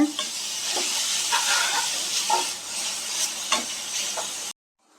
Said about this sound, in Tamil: ஒரு நிமிஷம் மட்டும் தேங்காவை நல்லா கிளறியாச்சு